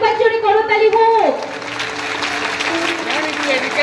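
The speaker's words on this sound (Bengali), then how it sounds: "আর একবার জোরে করতালি হোক।" Audience at a girls' high school foundation day event breaks into applause; a voice with a sustained tone is heard first, then a broad wash of clapping carries on at a moderate level to the end.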